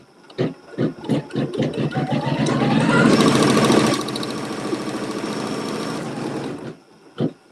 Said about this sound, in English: Let it sew the seam.